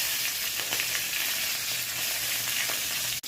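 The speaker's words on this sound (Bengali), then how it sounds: "এই তেলে আমি কালো জিরে আর কাঁচা লঙ্কা ফোড়ন দিলাম" Black cumin and green chillies hiss and crackle loudly in hot oil left in a kadai after frying whole bhola fish, a dense continuous sizzle with no voices and one abrupt cut at the end.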